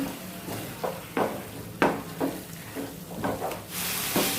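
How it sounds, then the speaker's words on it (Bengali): Marinated chicken is stir-fried in a pan for kosha, with rhythmic scraping strokes of a spatula about every half second over a soft, continuous sizzle that swells louder near the end. "এখন চিকেনটাও ভালো করে কষিয়ে নেব।"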